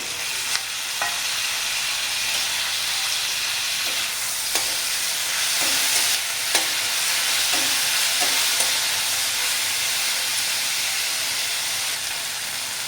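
Onion and tomato sautéing in a pan for Hyderabadi paneer curry, a continuous loud hiss and sizzle with intermittent scrapes and taps of the stirring spoon, close up, with no talking.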